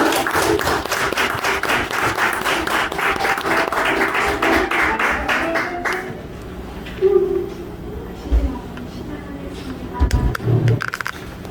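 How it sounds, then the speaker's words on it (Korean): Indoor audience gives a warm round of applause to elderly handbell performers at a care center's first-anniversary ceremony; dense clapping for about six seconds, then fading to a few scattered claps and shuffling sounds. "모두들 큰 박수로 환영해 주시기 바랍니다."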